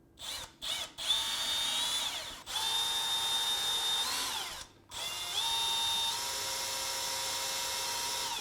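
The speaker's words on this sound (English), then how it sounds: "I'm gonna go with drill out" A power drill drills out a screw hole in a panel-ready appliance panel during a home renovation, with a steady high whine in three bursts separated by brief pauses, close and clear with no talking.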